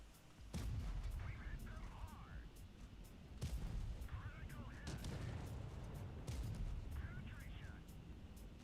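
Tank cannon fire in World of Tanks Blitz during a tournament match, with about three heavy booming shots spaced a few seconds apart beneath continuous commentary.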